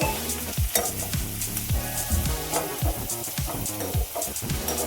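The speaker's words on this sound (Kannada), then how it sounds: "ಈರುಳ್ಳಿ ಕಂದು ಬಣ್ಣ ಬರುವವರೆಗೂ ಹುರಿಬೇಕು." Onions with salt fry in a pan, a constant close sizzle broken by regular scraping strokes of a spatula as they are stirred, one after another at a brisk, even rhythm.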